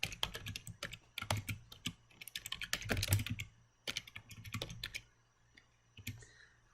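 Close, quiet typing on a computer keyboard while entering text into a spreadsheet, with bursts of rapid key clicks separated by short pauses.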